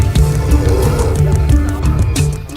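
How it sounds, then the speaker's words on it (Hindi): A tiger trapped down a well near Pench Tiger Reserve growls and roars loudly, with deep rumbling snarls that rise and fall over a noisy crowd background. "कुएं में गिरा ये बाघ बाहर आने को बेचैन है और इसी बेचैनी में इंसानों को देखकर वो गुर्रा रहा है।"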